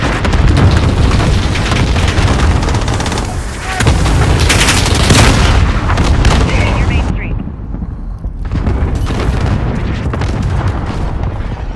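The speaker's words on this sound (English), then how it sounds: "Allied cluster strike inbound." Cluster strike in the Modern Warfare 2019 video game: a sustained barrage of loud, close explosions and booms rolling over several seconds, with gunfire crackle and brief game voice lines mixed in before a sudden drop and a renewed burst.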